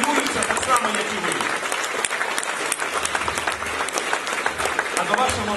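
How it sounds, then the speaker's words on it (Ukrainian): An audience at a formal university initiation ceremony applauds the teachers, with dense, sustained clapping from a large crowd filling the hall evenly from start to finish. "я попрошу вас оплесками підтримати своїх викладачів"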